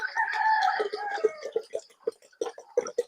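Farm chickens on Basilan cluck in a rapid series of short calls, opening with a drawn-out rooster crow, all close and lively.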